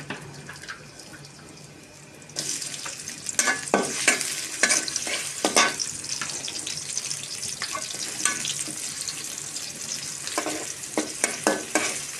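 Oil heats in a kadai for a chicken and potato curry, breaking into a loud, steady sizzle after a quiet start, with scraping stir strokes and clatter throughout.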